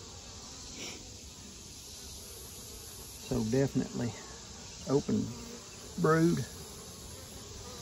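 Steady honeybee buzzing hums throughout at an open hive, close and continuous, while someone speaks briefly in short bursts over it.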